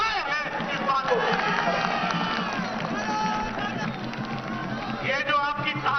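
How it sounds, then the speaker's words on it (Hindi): A large political rally crowd in West Bengal roars and cheers, a dense, sustained wash of shouting voices and rumbling noise that holds steady throughout, with a distant sense of mass. "ये जो आपकी तालियां हैं, ये जो आपकी गड़गड़ाहट है"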